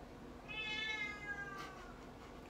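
A cat meows once in a long, drawn-out cry that rises and falls, fairly close and clear over a faint background hum.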